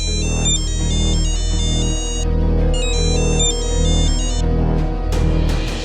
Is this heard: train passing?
no